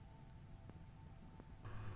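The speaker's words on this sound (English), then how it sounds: "There, it's raining." Rain falls in the video game Rimworld as a faint, steady hiss of patter that grows slightly louder near the end, with no talking.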